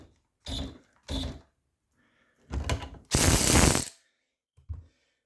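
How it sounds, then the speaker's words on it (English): A DeWalt Atomic 20V MAX brushless cordless half-inch ratchet runs in several short bursts, each a brief mechanical whir, the last one longer and louder, separated by silence. "put it back on the ratchet, and then we'll see it's 1, 2, 3, 4, 5."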